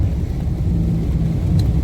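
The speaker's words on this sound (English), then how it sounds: "it's absolutely pissing it down up here in the northeast." Dense, steady low rumble with broadband hiss, like heavy rain pounding down; continuous and fairly loud, no speech.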